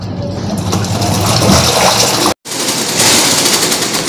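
A washing machine runs with water gushing and sloshing loudly and close. The sound is steady apart from a brief total dropout near the middle, after which it resumes at the same level.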